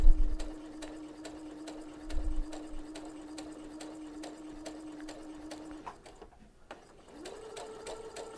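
A sewing machine doing top stitching runs in quick, evenly spaced ticking stitches under a steady motor hum, pausing briefly and then resuming, fairly quiet and close with no speech.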